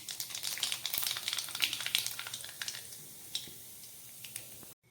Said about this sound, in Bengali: মেথি ভেজে নেবার পরে ওই তেলের মধ্যে আমি দিয়ে দিচ্ছি কিছুটা কালো জিরে ফোড়ন